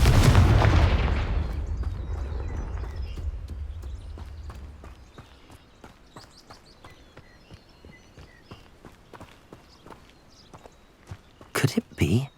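The Confringo fire curse spell in the video game Hogwarts Legacy sets off a loud booming blast that rumbles and slowly fades, followed by scattered light footstep-like taps and a brief burst of noise at the end.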